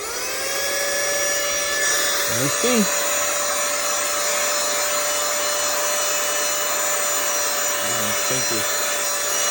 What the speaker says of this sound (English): I'm gonna try to just vacuum this a little bit and see what we do.